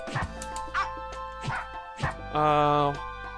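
Cartoon dogs from the fighting game Them's Fighting Herds bark in a string of short yips, with a longer whimpering whine near the end, under a voice speaking.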